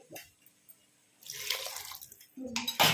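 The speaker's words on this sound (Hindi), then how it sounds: "अब इसमें हम पानी ऐड करेंगे।" Water is poured into chickpeas in a pressure cooker, with short splashing bursts, a quiet gap, then louder sustained gushing near the end.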